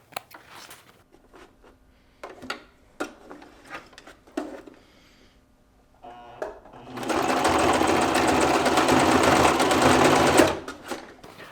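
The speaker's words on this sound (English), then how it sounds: "Don't forget to back stitch." A sewing machine back stitches through fabric, starting after a few soft clicks and handling taps and then running loud and steady for about four seconds before stopping.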